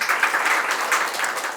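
Listeners at an academic policy forum clap to welcome a presenter and two discussants, a brief burst of continuous applause at moderate level.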